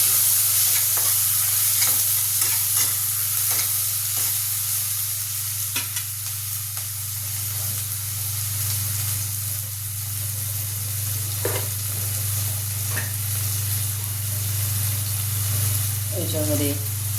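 Peanuts, onion, tomato and green chili fry in a pan, a steady loud sizzle with repeated scraping stirs of the spoon throughout, and a voice speaks at times over the cooking.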